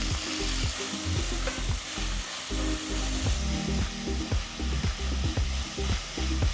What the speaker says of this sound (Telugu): తర్వాత పొడవుగా తరిగిన 3 ఉల్లిపాయలు వేసి కొద్దిసేపు మగ్గనివ్వాలి.